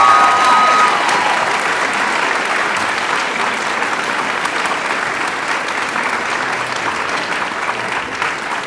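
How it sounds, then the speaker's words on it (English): Sustained audience applause for solo performers at a high school orchestra concert, dense steady clapping from a large crowd filling the hall, loud and continuous without pause. "They deserve another round of applause right now"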